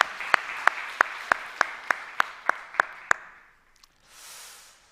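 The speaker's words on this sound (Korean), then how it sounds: "우리 우암에서 다시 한번 박수 한번 내줍시다" A church congregation claps in a Sunday worship service, sharp spaced hand claps in a steady rhythm of about ten beats, then stopping into quiet with a soft rustle of murmur near the end.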